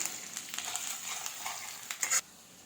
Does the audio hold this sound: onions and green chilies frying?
yes